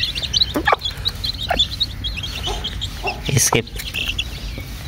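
A hen clucks among five small chicks, whose high, thin chirps repeat in quick bursts close by, while a person speaks briefly.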